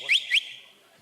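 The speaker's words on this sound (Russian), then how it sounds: "Видели, как он свистит?" A pigeon keeper whistles twice in quick succession, two sharp rising tones close by, then silence.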